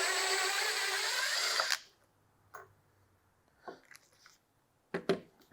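A power drill runs loud and steady for under two seconds driving 1.5-inch screws into a floating shelf, then stops, followed by a few faint clicks and taps.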